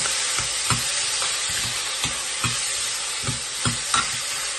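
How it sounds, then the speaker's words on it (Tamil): Two large tomatoes sautéing in a pan for stingray fish curry give a dense, steady sizzle close by, with soft regular taps of a spoon stirring through it and no voices. "ஒரு ரெண்டு டொமேட்டோ நல்ல பெருசான டொமேட்டோ இதுவும் நல்லா வதக்கணும்"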